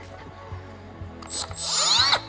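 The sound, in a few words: small sanding disc on power tool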